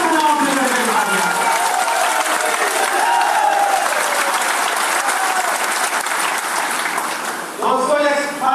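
A large audience applauds at a political party workers' rally in Haryana, with loud, dense clapping that runs throughout and a voice speaking over it.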